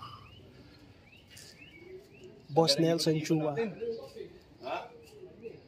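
Racing pigeons at a pigeon racing pool in Unisan, soft cooing and chirps scattered in the background while someone speaks loudly in the middle of the stretch.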